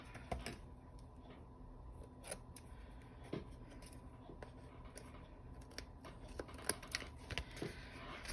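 Scissors trim the edge of paper in an art journal, giving a few faint, scattered snips and small rustles over a quiet room.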